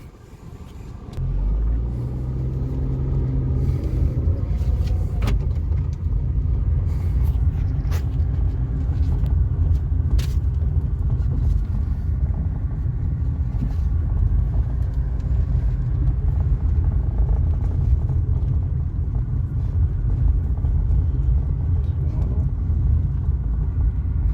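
A Tata Tiago CNG car drives steadily along a road, a continuous low engine and tyre rumble that stays even throughout, with occasional faint clicks and knocks.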